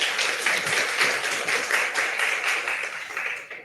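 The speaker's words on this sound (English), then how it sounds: "Another round of applause" At a university undergraduate research awards ceremony, an audience applauds steadily, with dense continuous clapping filling the room for several seconds at an even, fairly loud level.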